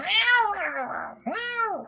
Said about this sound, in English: I will outside the warehouse cast a sound of 2 cats fighting.